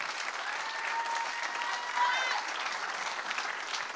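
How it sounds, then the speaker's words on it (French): Crowd applause at a sold-out stand-up comedy show, a steady, moderately soft wash of clapping from the audience with light cheering mixed in. "donnez-vous une bonne main d'applaudissement"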